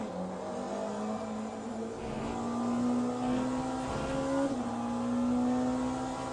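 Race cars in a WEC endurance racing video game, with a hypercar and LMP2 prototype at Monza, drone steadily with rising and shifting engine tones, loud and continuous throughout with no talk.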